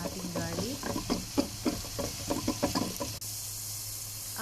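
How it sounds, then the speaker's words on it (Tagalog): Onion and garlic sauté in cooking oil in a pan, giving a gentle sizzle under rhythmic scraping stirs, then a steadier hiss once the stirring stops. "At isusuti lang natin yung ating onion,"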